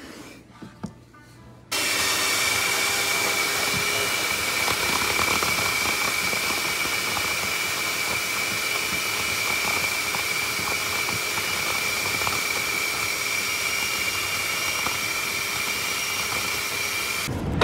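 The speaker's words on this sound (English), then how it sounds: "After vacuuming a couple gallons of water out of the tray" A shop vac runs continuously, sucking water out of an air conditioner drip tray in a Smoky Mountains cabin, a loud steady roaring hiss that starts abruptly after a few quiet seconds and holds for the rest.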